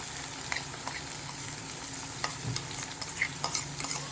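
Mustard seeds, chopped chillies, garlic cloves and onion fry in a pan, a steady close sizzle punctuated by scattered crackles and the scrape of stirring, with no talking.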